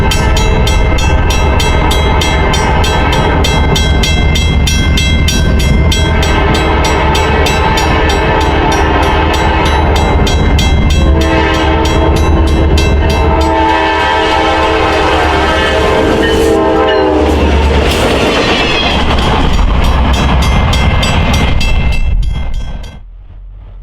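A freight train with a caboose in tow rolls past the Beverly Shores depot, loud and close, with a steady rumble and wheel clatter, a sounded horn partway through, then a quick drop-off as it clears.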